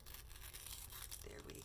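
A mail package is torn open with close crinkling and ripping paper, a sustained tearing sound that is quiet overall and ends in a short sharper rip, with a voice talking faintly alongside.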